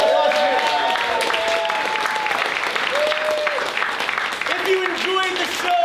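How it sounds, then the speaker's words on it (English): An improv show audience applauds loudly and continuously, with whoops and cheers mixed into the clapping throughout. "Give us a round of applause"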